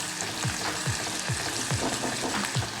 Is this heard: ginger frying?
yes